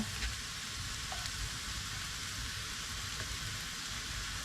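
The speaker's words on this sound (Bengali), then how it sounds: "তো কিসমিসগুলো ভাজা হয়ে যাচ্ছে" Raisins frying in a pan while sweets are made for Eid, a soft, even hiss and faint sizzle throughout, fairly quiet and steady with no voices.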